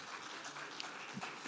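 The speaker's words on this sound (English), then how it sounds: "Please join me in a big round of applause for Silvia and for their team." An audience at a summit stage event claps in a faint, steady patter of applause heard from a distance.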